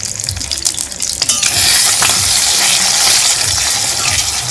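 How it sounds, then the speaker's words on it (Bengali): Two eggs being scrambled and fried in a pan give a loud, steady sizzle close by, with stirring scrapes and a brief gush of liquid early on. "তো এদিকে 2টো ডিম ঝুড়ো ভাজা করে নেব।"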